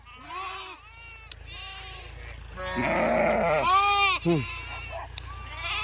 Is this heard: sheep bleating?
yes